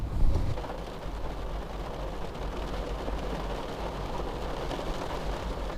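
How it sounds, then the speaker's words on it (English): Rain beginning to fall outdoors in Santa Cruz, a steady dense hiss of drops close by after a brief low thump at the start, with no voices. "So the rain really just started coming down right as I made it to my car."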